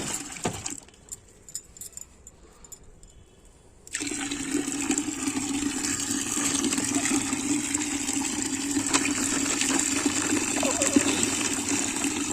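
Liquid fertilizer solution gushes steadily into a 20-litre bucket on a terrace garden, a continuous rushing pour that starts after a brief quieter handling moment and keeps building as the bucket fills.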